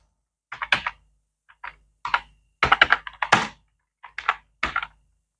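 Keystrokes on a computer keyboard while entering a search on a university website, arriving in short clustered bursts separated by brief pauses, close and clear with no voices.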